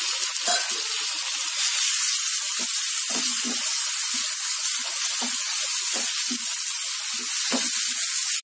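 Chopped onion and tomato sizzle steadily in a hot pan for a curry, a loud continuous frying hiss with occasional soft scrapes of a spoon stirring, and no voices.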